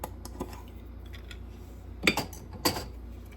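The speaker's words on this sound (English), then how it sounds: "I'm going to grate a little bit at a time here" Whole nutmeg rubbed on a metal grater in a home kitchen while making banana bread, heard as a few short rasping scrapes, two of them louder, against quiet surroundings.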